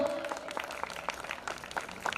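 Audience applause at the Rengali Mahotsav 2025 festival event: a steady patter of many hands clapping together, moderately loud, running throughout with some voices faintly mixed in.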